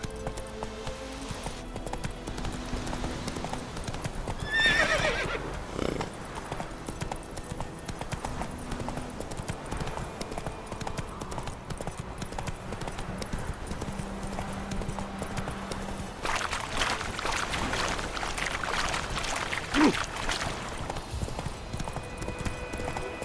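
Roach, the horse in The Witcher 3: Wild Hunt, galloping with steady rhythmic hoofbeats throughout, a brief whinny early on and a burst of louder, quicker clip-clop near the end.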